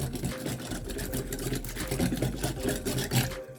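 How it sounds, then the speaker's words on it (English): Sauce ingredients for a slow-cooker Asian-style chicken and broccoli are whisked, giving a steady, continuous whirring hum that holds at an even level throughout, with no talking. "So all you do is just whisk it, and it mixes it up for you."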